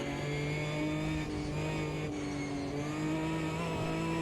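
A race car in the racing simulator Automobilista 2 holds a steady, high engine drone with slight rises and dips in pitch, loud and continuous with no talking.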